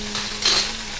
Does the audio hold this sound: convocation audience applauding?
no